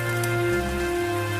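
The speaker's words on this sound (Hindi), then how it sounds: "बारिश और तेज हो गई।" Heavy rain pours down in a steady, dense hiss that stays constant and close, with no voices over it.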